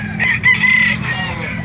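Rooster crowing at a chicken market in Calauan, Laguna, a single strained, drawn-out crow rising over a steady background hum of the crowded market.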